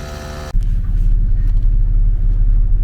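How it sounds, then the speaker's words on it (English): A tow truck engine starts and settles into a loud, close, steady rumbling idle while warming up, preceded by a brief tonal hum before it catches. "truck fired up, warming up."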